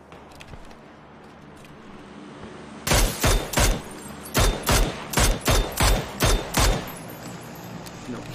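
PUBG gunfire comes in a rapid string of about ten loud, sharp shots in quick bursts after a quieter stretch of game ambience.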